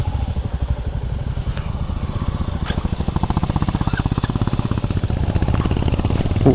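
A Hunter motorcycle engine running close by with a steady, loud, rhythmic thumping exhaust pulse that holds even throughout, with wind noise over it.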